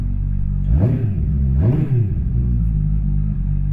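A QJMotor SRK 921 RR sport motorcycle's engine blips twice in quick throttle revs, rising and falling sharply, then settles back to a loud, steady idle close by.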